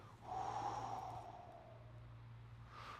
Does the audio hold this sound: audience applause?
no